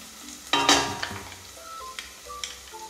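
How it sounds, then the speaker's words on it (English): Onion and garlic sauté in a pan, opening with a sharp metallic clank of a utensil against the pan, followed by a soft sizzle and occasional light scrapes. "I'm just kind of sauteing the onion. And then to this, I'm going to add the garlic, okay?"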